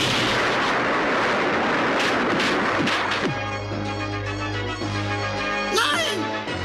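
Cartoon shooting sound effects from an animated He-Man series, a run of loud zapping blasts and booming shots, with whistling, sweeping laser tones toward the end.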